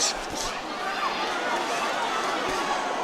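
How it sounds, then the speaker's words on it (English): A packed arena crowd roars and cheers at the Canelo Alvarez vs Gennady Golovkin middleweight boxing rematch in the tenth round, a dense, steady wall of noise that swells slightly at moments and never lets up. "These middleweights are giving the crowd something to cheer about."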